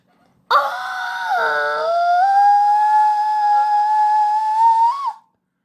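A single loud, sustained shout held for about four and a half seconds, its pitch sliding slightly upward before it cuts off abruptly.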